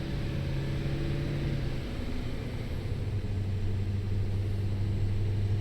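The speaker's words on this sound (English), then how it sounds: "this truck is loud" A loud truck engine drones with a steady low rumble from inside the cab, constant and unbroken, with a faint hiss over it.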